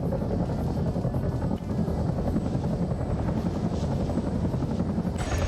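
A video game helicopter flies continuously overhead, its dense rotor and engine roar steady and loud throughout, with a brief dip in the middle and no talking.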